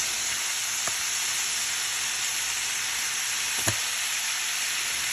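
A stir fry with Worcestershire and hoisin sauce sizzling in a pan, a loud, steady hiss that fills the clip, with one or two faint clinks of stirring and no talking.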